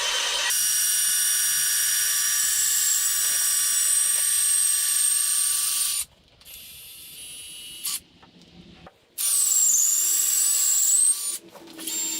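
A high-pitched cordless drill motor whine runs loud and steady for several seconds, cuts out briefly, then revs up again in bursts while chasing holes in a rope bed frame.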